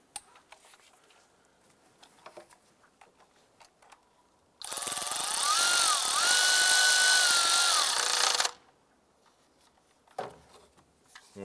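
A power tool snugs down the mounting bolt on the variable valve timing solenoid of a 2011-2019 Ford Fiesta: one steady, loud whir of about four seconds, with quiet handling clicks before and after.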